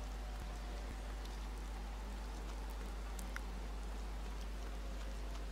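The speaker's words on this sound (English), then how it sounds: "It's nice, it's rainy." Rain falls steadily in The Secret World, a flat continuous hiss of downpour with a low constant hum beneath and a couple of faint ticks, with no voices.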